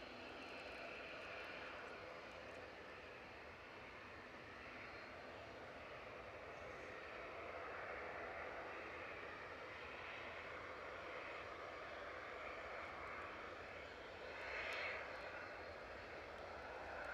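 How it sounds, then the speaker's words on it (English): A Qatar Airways Dreamliner jet departs Edinburgh Airport, its engines producing a steady, distant broadband roar heard from a spotting position that swells slightly toward the end, with no talk over it. "The Qatar Dreamliner is also on the way out."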